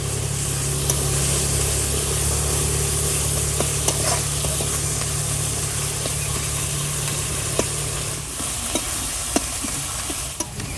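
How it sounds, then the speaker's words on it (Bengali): Ground spice paste sizzling in a pan with lightly fried onion and tomato for a cabbage and potato curry, a loud continuous hiss with occasional stirring scrapes and clicks close by. "পেঁয়াজ আর টমেটোটা হালকা করে ভেজে নিয়েছি এবার সমস্ত বেটে রাখা মশলাটা দিয়ে দেবো"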